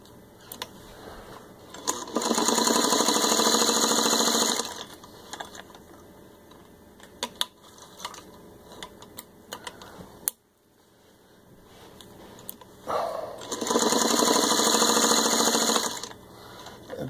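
A serviced 1952 Singer 301 sewing machine stitches through three layers of jacket leather in two loud, steady runs of rapid mechanical whirring, separated by a quieter stretch of clicks and handling noise.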